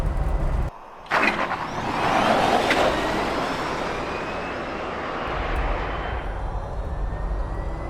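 An electric Land Rover Defender fitted with straight-cut gears drives past with a loud, sustained whine and drivetrain rumble, pitch rising and shifting under acceleration after a brief dip near the start.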